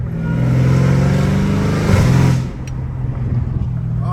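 Straight-piped Dodge Hellcat Redeye engine revving loud and close, a steady deep drone that swells then drops off, with a lighter engine rumble continuing after.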